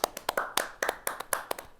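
A small scattering of hand claps, about a dozen sharp slaps in an uneven rhythm, close by and fairly quiet, with no voices.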